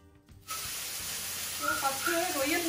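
Onions dropped into hot oil in a pan for prawn curry, with a sudden onset into a steady, fairly quiet sizzling hiss and faint crackles that grow slightly near the end.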